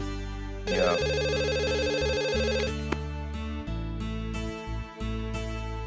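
A telephone ringtone plays loudly and continuously as a melodic electronic tune with steady repeating tones, with no voices over it.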